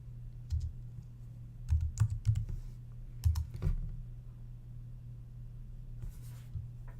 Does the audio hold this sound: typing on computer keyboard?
yes